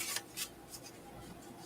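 Soft papery shuffling and riffling, a few quick brushes close by, quiet and without talk.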